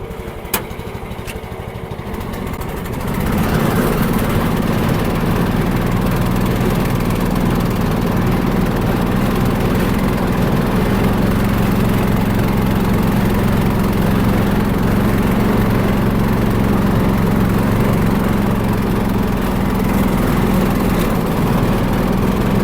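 A tracked dumper's engine idles briefly, then rises to a loud, steady roar as the machine pulls away, and it holds a constant drone to the end with no talking.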